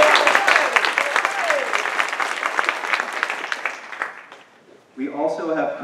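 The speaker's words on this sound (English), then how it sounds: "so they deserve a round of applause." A crowd at a 2018 overdevelopment community forum claps in a steady, lively patter for several seconds. The applause thins out, and then a voice begins talking.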